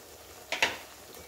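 Tomato paste hits hot spices in a pan for a Kaju Paneer Masala, giving two quick, close sizzling hisses in an otherwise quiet kitchen.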